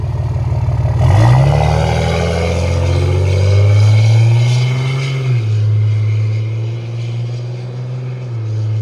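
A 2006 RAM 2500 pickup with a 5.9L Cummins diesel, fully deleted and running straight pipes, revs up hard and holds a loud, deep, steady drone, then settles lower near the end; no one speaks.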